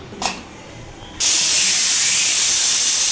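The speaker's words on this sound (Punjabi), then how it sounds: "ਇੱਕ ਵਿਸਲ ਮਰਵਾਵਾਂਗੇ ਤੇ ਇਹਨੂੰ ਥੋੜਾ ਜਿਹਾ ਨਾ ਉਬਲਣ ਦਵਾਂਗੇ" A pressure cooker whistle lets off steam, holding a loud, steady, close hiss after a faint opening puff and a sudden burst, with no talk.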